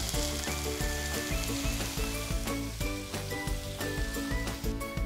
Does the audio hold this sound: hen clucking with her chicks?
no